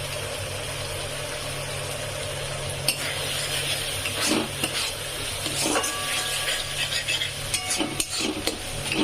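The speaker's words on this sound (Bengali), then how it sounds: "তারপরে এটাকে আবার কিছুক্ষণ কষিয়ে নেব" Prawn curry with chilli and turmeric powder sautéing in a pan gives a steady close sizzle, broken by scraping stirs and clinks of a spoon against the metal pan, with no voices.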